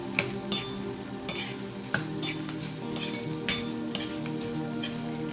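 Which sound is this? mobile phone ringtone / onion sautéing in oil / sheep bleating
onion sautéing in oil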